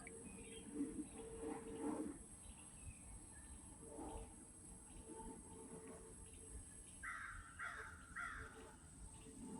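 Crows cawing in a woodland, several short harsh calls in a quick run near the end, with earlier fainter calls over a steady insect and wind background.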